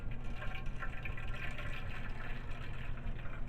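Aloe vera juice pours into a container while a facial cream is made, a continuous soft splashing trickle that fills the short stretch evenly and stays fairly quiet.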